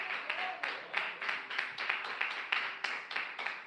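A church congregation claps during a sermon in a steady, rhythmic beat of hands, about two claps per second, moderately quiet and without talk.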